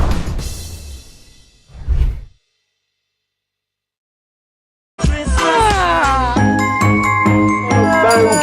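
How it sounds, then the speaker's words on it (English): A short jingly tinkle of sleigh bells fades out, followed by silence, then bright bell-laden Christmas music kicks in loudly, in a festive holiday segment on a midday news show. "Sleigh bells ringing, diamonds bling."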